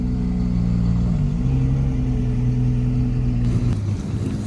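A car engine idling after starting up and revving to warm up at a Le Mans legends and hypercar concours show, a steady close mid-range rumble with a slight rise in pitch and no talk.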